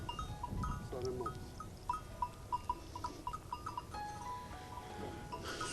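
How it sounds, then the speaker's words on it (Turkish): Maltese crossbreed goat on a village farm, bleating in short repeated calls amid faint livestock and bell-like clinks, moderately distant over a quiet outdoor background. "Bu herhalde Maltız kırması değil mi? Maltız kırması. Kırma bir keçimiz."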